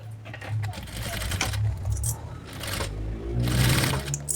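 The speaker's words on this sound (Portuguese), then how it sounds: "E agora a gente vai passar uma costura nessa parte aqui de dentro, prendendo o fole na nossa parte do espelho do bolso" An industrial sewing machine stitches the inner seam of a small backpack pocket, joining the gusset to the pocket front, running in steady bursts with brief pauses, loud and close; a few faint metallic clinks are heard.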